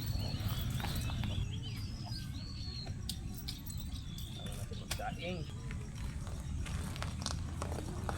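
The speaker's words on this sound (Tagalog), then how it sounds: "Hugasan muna natin yung kabayo natin." A horse walks near Bakas River in Norzagaray, Bulacan, its hooves clip-clopping faintly in an irregular rhythm while birds chirp in the background.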